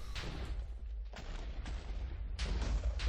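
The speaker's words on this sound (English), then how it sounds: "it's gonna start doing a bunch of explosions" Repeated explosions go off in a Minecraft game running the FTB Infinity Evolved Skyblock modpack in expert mode, with several loud blasts and rumbling booms over a constant low background roar, heavy and close.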